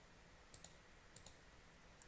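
Mouse clicks while working in 3D modeling software on a wireless charger design: two quick double clicks, then a single faint click, sharp and close against near silence.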